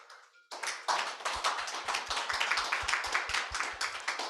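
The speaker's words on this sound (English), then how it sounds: "I'm sure you all want to thank our speakers in the usual way, a round of applause" A conference audience applauds its speakers at a New Year policy conference; after a brief faint sound, close, crisp individual hand claps ring out in a fairly regular rhythm amid general clapping, steady throughout.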